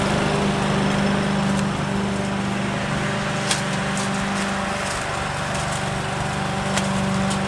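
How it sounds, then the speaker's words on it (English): A small lawn mower engine drones steadily throughout, a low motorized hum as it runs nearby over bricks, with a couple of faint clicks. "Hamish wants to show BLiPPi the lawnmower can go on the bricks."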